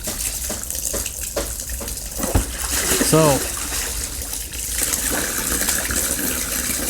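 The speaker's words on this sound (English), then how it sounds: "can you turn the water off" Water runs steadily from a kitchen tap in a hissing, splashing stream, with someone talking briefly over it and a short squeaky sound partway through.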